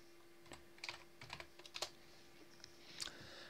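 Quiet bursts of keystrokes on a computer keyboard, a few irregular clusters of clicks with pauses between them, close and faint over a low steady hum.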